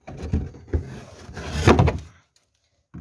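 Several dull, hollow knocks come from a worn steering column with excess play on a VAZ 2101-2107 car. The knocks are spaced irregularly over a couple of seconds, close and fairly loud, then fall silent.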